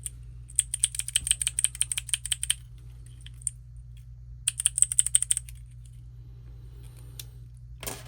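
Plastic keycaps being pressed onto a keyboard in two bursts of quick, close clicks and snaps, each burst about two seconds long, with a few scattered single clicks between and after them and no talk.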